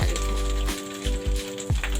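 Shrimp fry in hot oil with a loud, constant sizzle, broken by several low thumps as the pieces are moved, with a steady tone running underneath.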